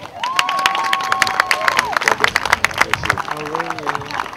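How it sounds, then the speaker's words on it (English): A crowd claps and cheers loudly and steadily throughout, with a voice speaking over the start before the applause continues on its own. "So give a round of applause for Wade Williams."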